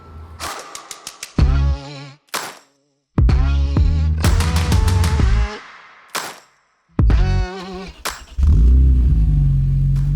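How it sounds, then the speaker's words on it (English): Inline-six roadster engine fitted with a Super Sprint exhaust, revved in several sharp bursts that climb and fall away, separated by short gaps of near silence, loud and close with a deep, meaty tone. "it gives it kind of that more meaty noise to this inline six"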